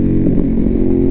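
Ducati 848 Evo motorcycle with a Termignoni exhaust running loud and close, a dense steady engine roar with a gritty rumbling pulse throughout.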